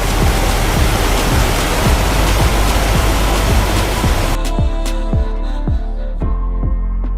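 A waterfall at Matheran gives a steady, broad rushing roar of falling water for several seconds, then turns quieter, with lighter splashing.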